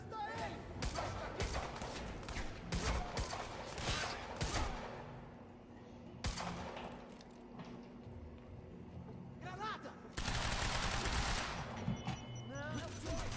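Gunfire in the Quantum Break video game comes as loud rapid bursts and single shots, dense near the start and again near the end, with someone talking over parts of it.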